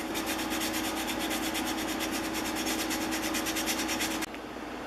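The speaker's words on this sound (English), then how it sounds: "just roll or shape your sandpaper to fit and get it in there and clean them up" Sandpaper rubbed by hand inside the openings of an old iron cap gives a steady, close, continuous rasping scrape with a quick rhythmic texture, stopping abruptly near the end and leaving a quieter hiss.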